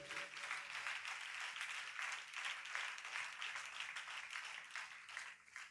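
A congregation at a New Year church service claps loudly and steadily, a dense sustained burst of applause filling the hall throughout, fading slightly at the end.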